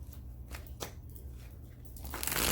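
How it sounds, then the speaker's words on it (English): A deck of tarot cards is riffled and shuffled up close, with soft papery flicks and a rising rush of card noise toward the end. "All right, 4 shuffles for Scorpio."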